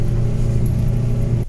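A 4WD crawls up a slippery bush track near Pemberton in first gear low on a steady throttle, giving a continuous, close, low engine rumble that holds even throughout.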